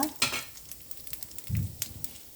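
Bay leaf, panch phoron, whole cumin and black cumin sizzling lightly in hot oil for a rohu fish head and bottle gourd curry. Faint crackles and spits come in short bursts, with one fuller sizzle midway.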